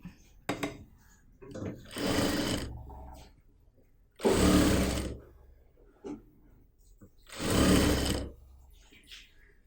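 Sewing machine stitching the neck of a kurti in short separate bursts, several quick runs of close mechanical whirring with gaps between them, a voice speaking in the pauses.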